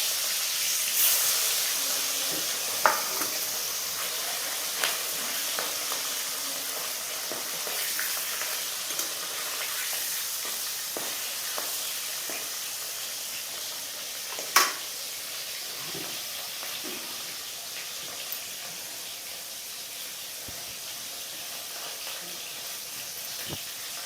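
Fish sizzling and frying steadily in a pan of hot oil, a continuous bright hiss with occasional pops and spatters, close and fairly loud throughout.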